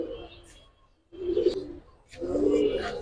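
Giribaz silver and coloured pigeons coo in two low, rumbling bursts separated by a short pause, close and moderately loud, with faint higher chirps above.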